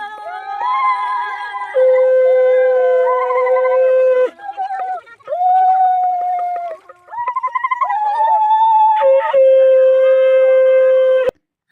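A conch shell blows long, loud, sustained horn-like blasts at an Odia river ritual, sounding again and again with brief breaks between them, close and dominant with no talk.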